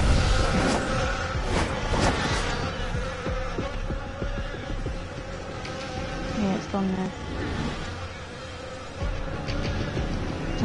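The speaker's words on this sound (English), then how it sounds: "Sounds like bees." Bees buzz in the DC Universe Online video game, a continuous insect hum blended with game effects and clicks, while players talk over it.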